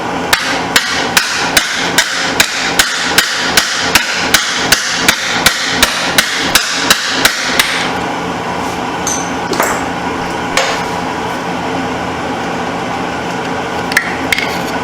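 Sharp metallic hammer blows strike dirt bike ignition stator parts on a 1989 Suzuki RMX 250, about twenty evenly spaced loud hits in quick succession, then quieter shop handling noises and a few clinks.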